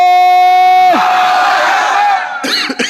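A large crowd at a 2024 religious jalsa gathering at Bankul Sharif roars a loud unified shout in reply to a single voice leading the Nara-e-Takbir chant, then the cheering breaks into scattered calls.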